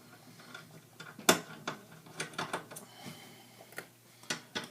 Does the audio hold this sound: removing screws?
yes